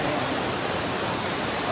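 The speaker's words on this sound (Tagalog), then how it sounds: "Mag-anak ko, nandito kami sa Tinago Falls." Steady broadband rush of water from Tinago Falls, a waterfall in Inalahan, Guam, filling the whole stretch at an even, constant level with no voices.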